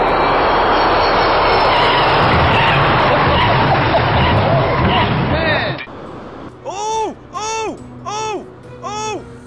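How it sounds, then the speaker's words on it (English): A roaring jet engine rumbles loudly for several seconds as an airplane lands and brakes hard repeatedly, then cuts off, followed by repeated short, wavering vocal cries. "the plane kept jerking as the pilot hit the brakes again and again"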